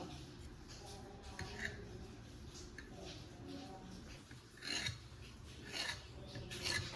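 A knife scrapes and rasps through thin rolled chapati dough on a board, quiet repeated cutting strokes with a few louder scrapes toward the end.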